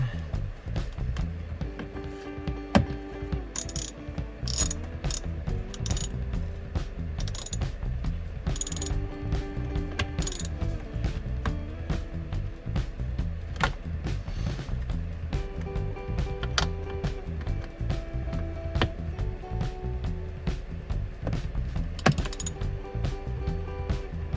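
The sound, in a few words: screwing screws into motor blower fan housing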